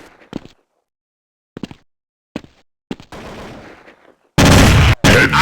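Gunfire in Counter-Strike: several sharp isolated shots separated by gaps, then a denser burst, ending in a loud sustained volley that stops briefly and resumes.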